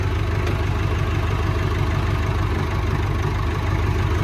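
Massey Ferguson 168 tractor engine idles close by in a steady, rhythmic diesel chug, with a rough clutch release bearing, loud and continuous without a break.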